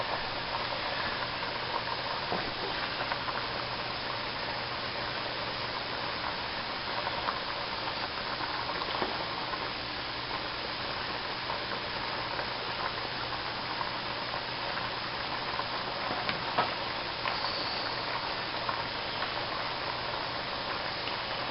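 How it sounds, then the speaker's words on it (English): A pot of pasta boils on a stove, giving a steady, continuous bubbling hiss at moderate level with small pops scattered throughout and no voices. "when you cook pasta, it'll bubble up and it will overrun and stink real bad when it hits the burner"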